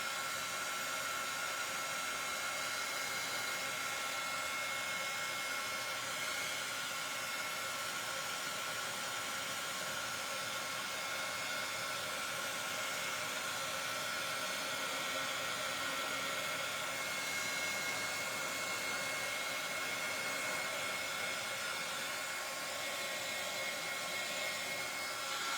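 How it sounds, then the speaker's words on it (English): A heat gun blowing hot air while drying paper craft work, a continuous steady whooshing roar with a faint whine, unchanging for the whole stretch and heard alone. "a heat gun, for those of you who might not know, is nothing like a hair blow dryer. It doesn't blow as much, and it's much, much hotter."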